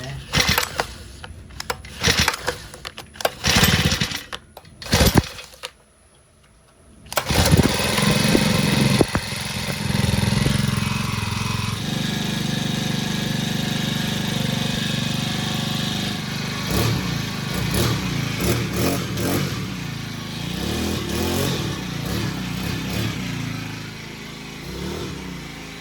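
A grass cutter engine runs steadily and loud up close, its drone holding after some sputtering, clattering starts and a brief pause, with faint voices in the background during a land-clearing test in the Philippines.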